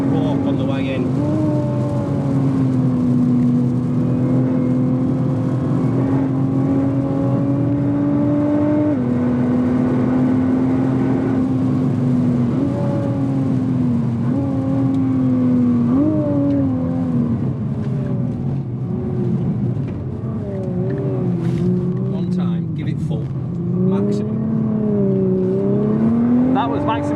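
Onboard a 2017 Nissan GT-R lapping Spa-Francorchamps in the rain, its engine drones loudly and continuously, the pitch climbing and dropping sharply with acceleration and gear changes.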